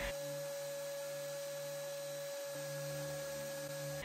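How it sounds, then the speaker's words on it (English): A power sander runs steadily over bathroom wood trim and tongue and groove wall boards, a continuous loud electric whine with a slight change in pitch partway through, with nobody talking. "Then I began sanding all of the wood trim and tongue and groove walls surrounding the toilet."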